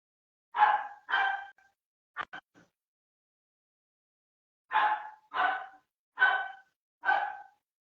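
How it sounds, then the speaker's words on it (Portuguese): A dog barks nearby in clear, evenly spaced pairs, with a couple of quick clicks between the bursts and silence around them. "Eu acho que o cachorro assustou ele."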